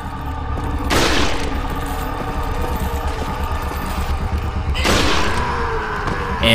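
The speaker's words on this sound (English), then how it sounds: "And three shots and he's dead." Gunfire in Resident Evil 4: two sharp, loud shots roughly four seconds apart ring out over a steady droning game background, with no talking.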